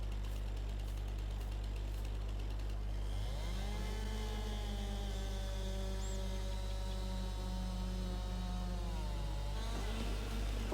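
Chainsaw cutting trees on forestry land in Farming Simulator 22: a low droning hum under which the saw engine revs up into a sustained, steady whining buzz that dips and rises again near the end, moderately loud, with no talk.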